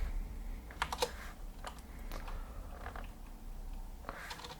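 Fairly quiet keyboard typing, a few irregular clusters of clicks and taps spread across a brief stretch with pauses in between, while a form is being coded.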